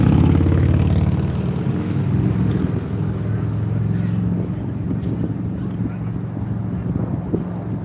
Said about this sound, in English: And we're taking off. Nice, easy, smooth takeoff.